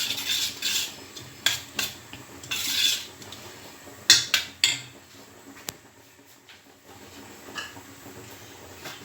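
Ingredients for an oven-baked fish dish being mixed by hand in a bowl, with repeated scraping, clinking and rubbing strokes of a utensil against the dish, fairly close, irregular bursts without talk.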